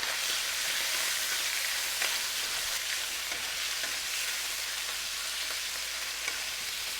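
Beef sears in a pan for Xiamen beef, giving a steady, bright hiss of frying oil that stays even from start to finish, with faint scattered pops and no talk.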